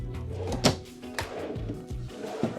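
Several wooden thunks and sliding rumbles as drawers are pulled out and pushed shut nearby in a 2023 Winnebago Adventurer 35F motorhome, one sharp knock standing out.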